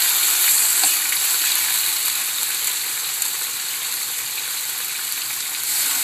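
Pieces of salmon fry in a pan of hot oil, a loud, dense, continuous sizzle with a crackling hiss that holds steady throughout, close up, with no talking over it.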